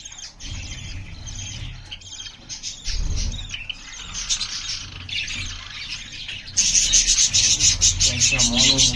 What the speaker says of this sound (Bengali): বেবিগুলো তার মার কাছ থেকে খাবার চাচ্ছে, মা আদর করে বেবিগুলোকে খাওয়াচ্ছে, তাই বেবিগুলো কিচিরমিচির ডাকতেছে।